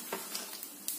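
Onions and curry leaves fry in hot oil for duck curry, a close, soft sizzle with a few brief crackling pops rising out of the steady hiss.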